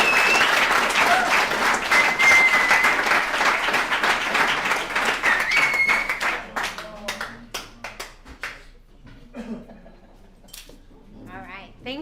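Applause rises from the audience at a recovery alumni meeting, dense and warm for several seconds before thinning into scattered, separate claps that fade away, with a few voices murmuring underneath.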